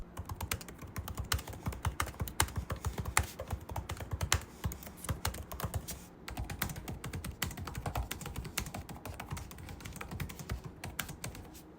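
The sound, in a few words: typing on Huawei Matebook 14S laptop keyboard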